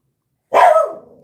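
A dog gives a single loud bark nearby, a sharp burst that trails off quickly after a moment of silence.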